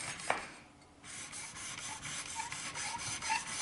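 A kitchen knife's micro bevel being shaped on a sharpening stone, a continuous close rasping rub in steady back-and-forth strokes with a brief pause near the start, fairly quiet and without speech.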